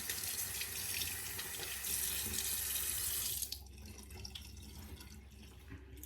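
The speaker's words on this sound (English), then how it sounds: "So let me rinse off, do a tactile" Tap water runs steadily into a sink while a face is rinsed after a safety razor shave, a full close splash that drops away abruptly partway through, leaving quieter drips and handling noise.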